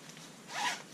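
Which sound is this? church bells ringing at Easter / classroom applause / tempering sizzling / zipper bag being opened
zipper bag being opened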